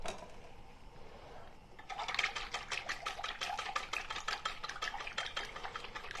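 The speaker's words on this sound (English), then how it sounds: "And then I'm going to whisk it up." Salad dressing being whisked in a bowl, a rapid steady rhythmic clinking and swishing of the whisk that starts after a quiet moment and carries on close and moderately loud.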